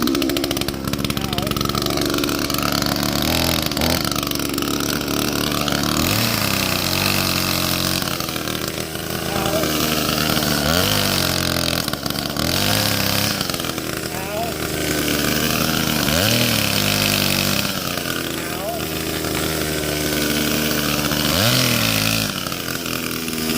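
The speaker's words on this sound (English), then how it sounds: "Yes, I do got a normal chainsaw." A gasoline chainsaw runs loudly and close by, its engine rising and falling in repeated revving cycles over a steady idle for about twenty seconds.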